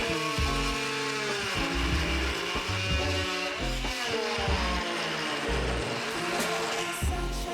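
A power multi-tool cutting during a home renovation gives a loud, continuous buzzing drone with a rough vibrating rasp and shifting pitch as it bites into the material, steady throughout and close.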